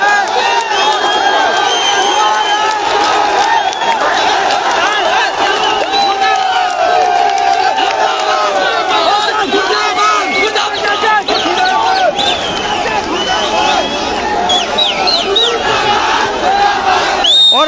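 Large crowd of young protesters gathered in Dehradun, Uttarakhand, chanting and shouting together in a loud, dense, continuous roar of voices with rhythmic slogans throughout.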